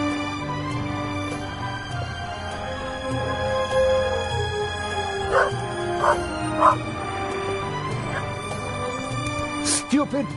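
A dog barks and yelps several times over steady game music in The Raven: Legacy of a Master Thief, the sharp barks clustered near the middle and end, fairly close and moderately loud.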